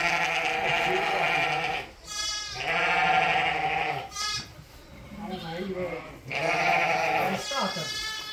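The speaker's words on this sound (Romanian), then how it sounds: "Sunt frumoși, foarte frumoși mieluții." Lambs of the Țurcană breed bleat repeatedly and close by at a sheepfold in a Romanian village, their calls overlapping with people talking.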